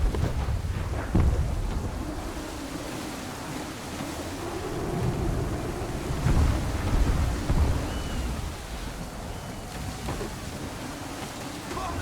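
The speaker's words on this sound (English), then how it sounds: "There's a storm coming," A storm rolls over the sea in Assassin's Creed 3, with a steady wash of rain and wind, rumbling thunder and surging waves, loud and continuous.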